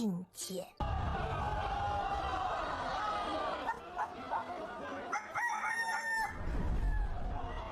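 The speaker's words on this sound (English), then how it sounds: "The red rooster looks like he can fight." A red rooster crows repeatedly at a cockfight, its drawn-out calls rising over a busy crowd whose chatter runs throughout, with a few sharp clucks and bursts layered in.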